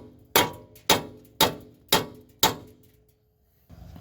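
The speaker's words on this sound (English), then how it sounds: "Take a hammer, hit the knuckle." A hammer strikes the steering knuckle of a 2003–2009 Toyota 4Runner five times to free the upper control arm stud, each metallic clang sharp and close at a steady half-second rhythm before a brief silence and light handling noise.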